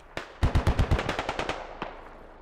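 Gunfire in the military shooter Squad: a single shot, then a rapid automatic burst of about a dozen sharp reports that fade, followed by one distant shot.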